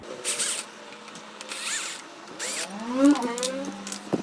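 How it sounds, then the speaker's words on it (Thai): Four nuts come off the terminal cover of an EA-900G4 UPS, heard as short bursts of a cordless driver whirring in on-and-off spurts, close by, with ratcheting clicks and a rising motor whine near the end. "ก็จะมีน็อตอยู่ 4 ตัวนะครับเราก็ทำการถอดน็อตก่อน"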